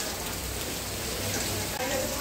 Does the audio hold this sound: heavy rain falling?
yes